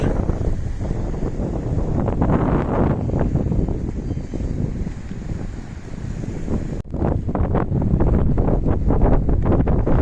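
Steady wind blowing across a fine-sand beach on an island off Urla, broad rushing noise buffeting the microphone throughout with a brief dip partway, no voices.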